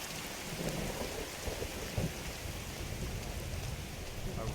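Steady rain with thunder in Skyrim, a dense continuous hiss with a low rolling rumble and a soft thump partway through, no voices.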